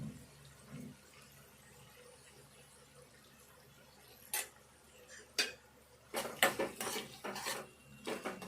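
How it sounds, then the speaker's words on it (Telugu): Tempering being stirred in a pan as turmeric goes in, giving quiet metallic scrapes and clinks of a spoon against the pan, a few sharper knocks near the end over a faint background. "కొంచెం పసుపు వేసుకుందాము"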